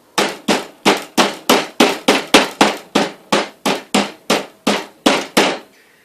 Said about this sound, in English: take your steaks, get a good pound on them